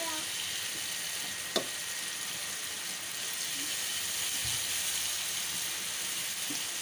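Spices, chopped tomatoes and slit green chillies roasting in a pan for Dhaba-style bhindi masala, a steady soft sizzle and hiss with a faint clink partway through.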